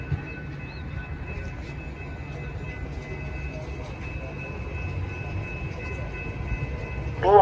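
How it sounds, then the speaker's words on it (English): A BNSF commuter train rolls into the Downers Grove station with a steady low rumble and high squealing tones, growing louder toward the end. "BNSF train number 1211 to Aurora is now arriving"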